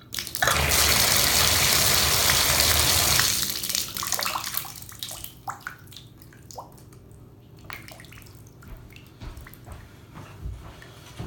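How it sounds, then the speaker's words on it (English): A strong gush of water from a shower that won't turn off pours steadily for a few seconds, then drops to a softer trickle with scattered drips and small knocks. "So the water started going as soon as I turned the hot on."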